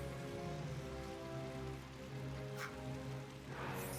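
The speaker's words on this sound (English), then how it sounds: "I really like the weight that the rain has. The sound is really substantial." Steady, substantial rain falls in a video game, a dense broadband patter holding throughout with low tonal game music or ambience underneath and a brief brighter splash or rustle near the end.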